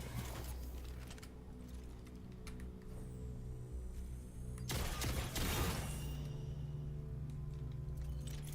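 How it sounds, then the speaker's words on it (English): Weapons being reloaded in a video game, a run of faint mechanical clicks, clacks and metallic slides, with a louder burst of clattering about midway, all fairly quiet with no talk. "Let's reload all the weapons"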